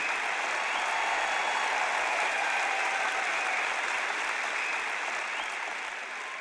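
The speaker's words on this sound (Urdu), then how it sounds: "دیکھیں، اگر آپ تالی بجانا چاہتے ہیں تو کھل کر بجائیں." Audience at a religious sermon clapping steadily, a dense, continuous wash of many hands applauding at even loudness throughout, with no voices over it.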